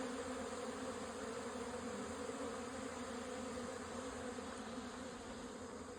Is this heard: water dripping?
no